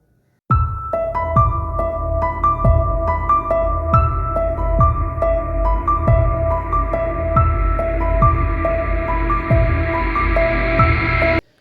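A JBL Clip 4 portable speaker plays a music test track: bright plucked, piano-like notes over a regular thumping beat, loud and clear from start to end with no talking.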